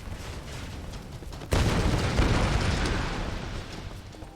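Explosions in the video game Tomb Raider (2013), with a sustained rumbling roar that erupts loudly at once and then slowly decays.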